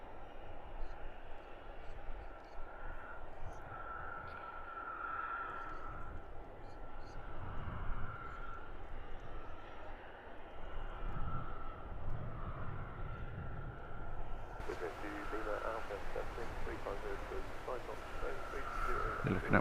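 A Wizz Air Airbus A321 jet at Luton Airport makes a steady, distant engine roar through the whole stretch, with a rushing broadband swell near the end.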